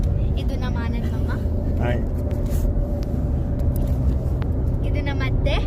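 Steady low road rumble inside a moving car on a family trip to Tumkur for a naming ceremony, filling the whole stretch with even engine and tyre drone while people talk over it.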